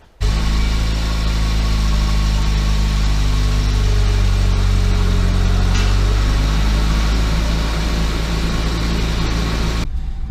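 Car driven in first gear at low speed on dyno rollers, a loud steady engine drone with rumbling roller noise that holds evenly for about ten seconds, close up with no talking.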